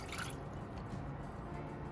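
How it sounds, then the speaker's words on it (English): White vinegar pours steadily into a bowl of coleslaw dressing, giving a continuous soft liquid trickle and splash in a kitchen with no talking. "So in goes our vinegar."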